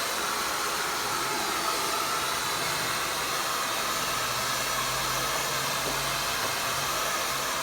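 Steady, loud whoosh of a hair dryer held close while blow-drying the roots of medium-length hair, running alone without a break.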